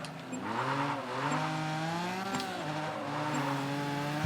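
Opponent rally cars roar just behind in the racing video game Gravel, their engines whining and revving up and down in rising and falling pitches, with the sound fairly faint and continuous.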